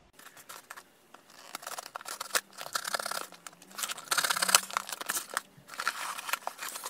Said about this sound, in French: J'ai bien pris ma paire de ciseaux.